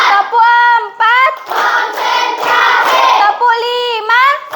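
Children clap their hands in a counting chant during a classroom lesson, with a burst of claps in the middle set between sung, tonal voices chanting at either end.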